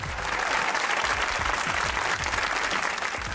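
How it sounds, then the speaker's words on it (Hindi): Steady, dense studio audience applause from a Pakistani comedy talk show, loud and continuous throughout with no talking over it. "जल्दी तालियां।"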